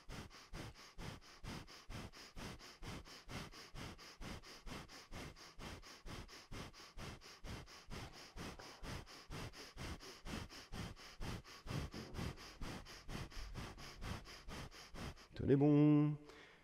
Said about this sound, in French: Toujours pareil, respiration du feu.